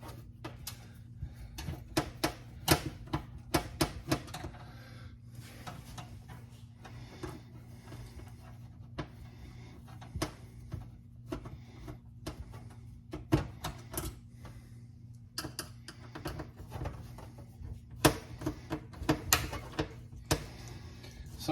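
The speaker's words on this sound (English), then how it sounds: "Go ahead and take those screws out." Screws being worked out of a Whirlpool oven heating element with a Phillips screwdriver, heard close up as repeated small metallic clicks and ticks over a steady low hum, with no talking.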